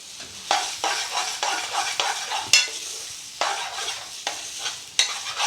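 Garlic chicken chilli frying in a pan, a close steady sizzle broken by repeated scraping stirs and soft utensil knocks every half second or so, with no talking.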